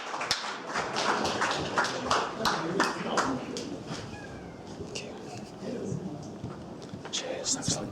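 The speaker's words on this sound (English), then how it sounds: "if we have one last round of applause for this team" Applause from an audience at a junior hackathon, a dense patter of many hands clapping close by, fading slightly midway and then picking up again, with talk underneath.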